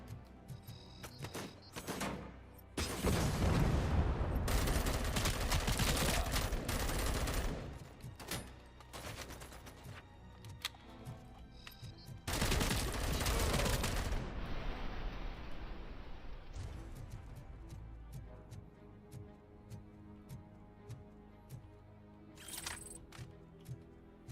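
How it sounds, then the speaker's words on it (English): Assault rifle fire in the Robocop video game, loud sustained bursts from about 3 to 8 seconds and again from 12 to 15 seconds, with scattered shots and mechanical clatter between them. "I like the assault rifle."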